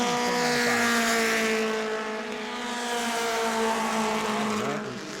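Short-track race cars roar around the New Smyrna oval, a loud continuous engine drone with several overlapping harmonic whines that shift in pitch as cars pass, swelling and fading slightly, no voices.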